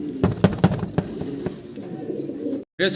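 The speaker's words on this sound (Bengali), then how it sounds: "এগুলো লাজুক কবুতর খুব মানে ছটফট করে" Restless fancy pigeons coo and shuffle close by, with a few sharp bursts of wing flapping early on, then a brief silence before more rustling.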